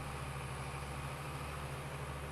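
A tractor engine in Farming Simulator 22 drones steadily near its horsepower limit while pulling a planter, a constant low idle-like hum with an even mechanical whine and no pauses.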